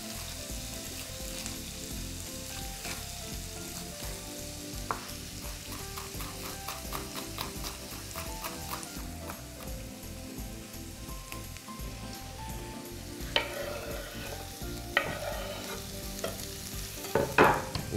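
Chopped red sweet pepper fries steadily in a pan while a utensil stirs it, giving a continuous close sizzle broken by scraping stirs and a few sharper clicks near the end, with no talking.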